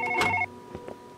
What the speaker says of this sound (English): Would you go answer the fucking phone?